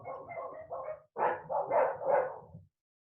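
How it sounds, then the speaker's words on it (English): Several dogs bark in a burst of repeated woofs, a puppy and three neighbouring dogs, heard at moderate distance indoors during a home yoga class, the barks overlapping in two quick clusters before stopping. "I have a puppy and my neighbors have 3 dogs."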